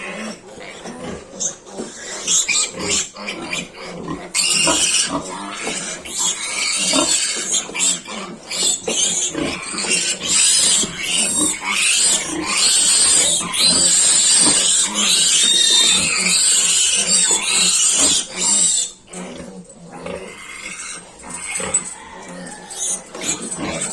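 A piglet squeals loudly and almost continuously while being handled by one person, shrill cries rising and breaking with brief pauses, close and dominating the scene.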